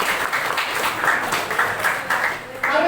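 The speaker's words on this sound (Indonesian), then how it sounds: "Tepuk tangan buat kita." A group at a financial literacy teaching session applauds for about three seconds, dense and fairly close, with faint voices mixed in.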